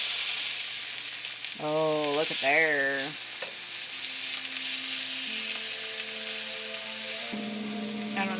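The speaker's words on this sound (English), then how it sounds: "Listen to that sizzle." Steady, loud sizzling of steak frying in a pan, continuous crackling hiss throughout, with a brief spoken remark near the start.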